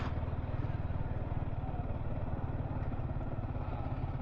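A motorcycle engine drones steadily with a low, pulsing rumble and some wind noise, sounding like riding at steady speed.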